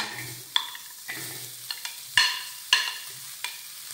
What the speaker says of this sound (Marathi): तर इथे गॅसवर मी तवा गरम करत ठेवलाय, त्यामध्ये घालूयात कांदा